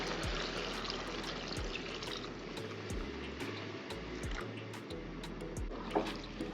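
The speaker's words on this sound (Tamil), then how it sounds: "இப்போ தண்ணி சேர்த்துக்கிறேன்" Hot water poured steadily from close by into a clay pot of green chili mutton fry, a continuous trickling, splashing stream running the whole time with no talk over it.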